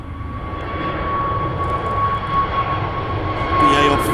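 A jet airliner at Manchester Airport roars steadily and loudly, its engine drone holding with a faint whine over a few seconds, heard on its own.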